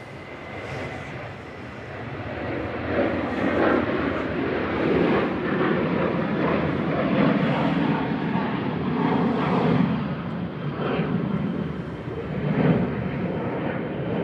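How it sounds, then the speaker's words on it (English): A Malta Air Boeing 737-800 departs Manchester Airport, its jet engines giving a moderate, fluctuating roar heard from a distance, with some faint background voices mixed in. "Operated by Malta Air, flight 4776. This is a 737-800 9HQ"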